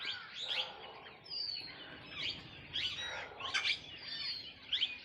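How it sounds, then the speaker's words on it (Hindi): A flock of birds chirps and calls in a sanctuary, overlapping bright tweets and trills repeating steadily over several seconds, fairly close with a soft outdoor background and no talking. "थोड़ा पंछियों का समूह अपने मंडल में देखते हैं अनन्य पंछी हमारे इस अभयारण्य से आकर"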